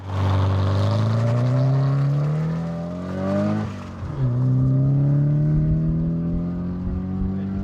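A two-wheel-drive Nissan S14 standard-class race car accelerates hard at a drag racing event. The loud engine note climbs, dips briefly at a gear change, then climbs again, all close and steady.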